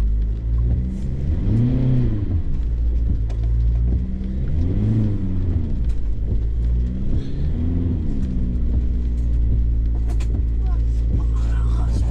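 A car drives with a steady low rumble, and its engine rises and falls in pitch three times as it revs. Voices are heard under the engine.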